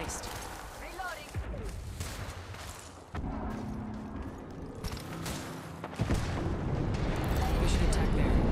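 Gunfire and explosive blasts in an Apex Legends match, dense and loud with repeated booms and shots building toward the end, under talk.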